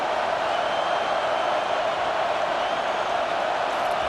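Steady stadium crowd roar in College Football 25, a broad continuous wash of cheering and noise at even loudness throughout.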